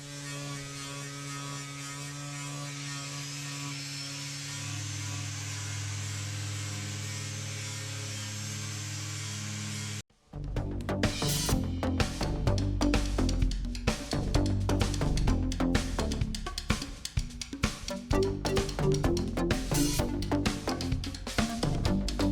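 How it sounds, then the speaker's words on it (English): A flexi sander works epoxy on a boat forebeam and hull: first a steady droning motor hum, then a louder, rougher stretch of continuous abrasive scraping with dense grinding texture, close and uninterrupted, no talking. "the flexi sander is taking off a lot of the washboard effect now"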